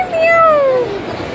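A single cat meows up close, one drawn-out, falling mew lasting about a second, loud and clear with no voices over it.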